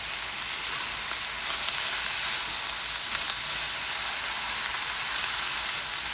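Fried rice with shrimp and Chinese sausage sizzles loudly in a pan as soy sauce goes in; the bright, steady hiss swells after a moment and stays constant, with no voices.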